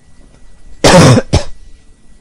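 One sharp, loud cough is followed by a second, shorter cough, both close to the microphone against near silence.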